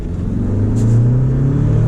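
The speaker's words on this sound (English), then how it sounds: "You can hear right now that right off that light was completely silent until the engine kicked in." A 2023 Jeep Wrangler 4xe Sahara's engine running as the vehicle accelerates from a light, heard as a steady, close low drone with a faint whir on top and no talking.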